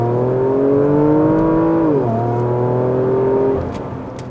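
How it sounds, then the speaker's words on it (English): A 2016 Porsche Macan Turbo's V6 engine howls close by in Sport Plus mode, revving up to a high pitch, dropping briefly, then holding a strong steady roar before easing off. "It absolutely howls its V6 howl"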